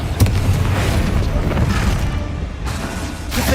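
Confringo, an explosive spell in Hogwarts Legacy, lands as a loud continuous boom with a rumbling burst, packed with dense battle noise and a sharp crack near the start.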